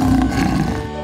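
A cartoon lion roars loudly and close, one sustained, raspy roar lasting about a second with no talk over it.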